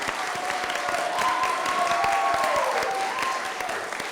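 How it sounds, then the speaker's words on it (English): A room full of people applauds speech contestants at a Rotary 4-Way Test speech contest, steady clapping lasting throughout, with a faint tonal whine drifting above it. "So let's give them one other round of applause"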